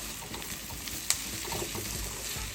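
Onions and vegetables sizzling in a little sesame oil over medium heat in an earthenware pot or saucepan, a soft steady frying hiss with one brief clink.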